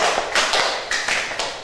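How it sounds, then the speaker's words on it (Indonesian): Hands clap in an even rhythm, about six crisp claps spaced roughly a quarter second apart, close and bright with no voices, clapped in front of the chest as a concentration and reaction-speed exercise. "Tepuk 1, ya, depan dada."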